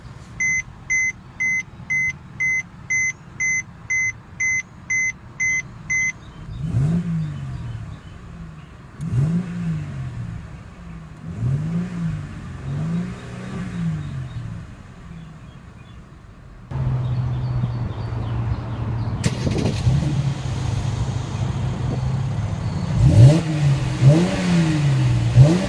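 A 2014 Mercedes-Benz C350 gives a steady series of chimes, then the push-button start fires the engine, which idles and revs in several short blips before a louder exhaust drone and further revving, close by, no talking.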